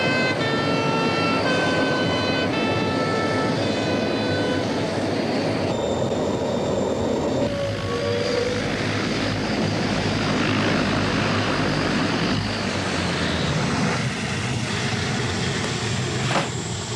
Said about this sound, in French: Envoyez-moi quelqu'un pour arrêter ces moteurs